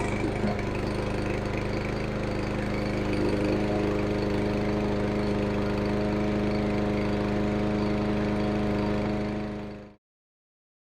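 A new Yardworks lawn mower engine, on its first startup, runs steadily at a loud, even drone close by, then cuts off abruptly near the end.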